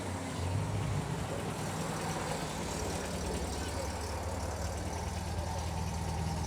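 An MG car engine turning over and running, a steady low rumble heard close, with people talking faintly beneath the noise.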